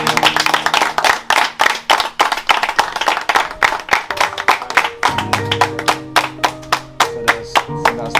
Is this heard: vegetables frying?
no